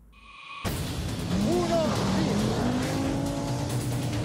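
A 1983 Audi Quattro four-wheel-drive rally car races loudly and close, its engine revving and wailing with rising and falling pitch sweeps and some tire noise, after a brief quiet opening.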